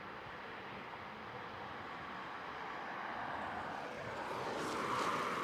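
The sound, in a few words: distant military jet aircraft at RAF Coningsby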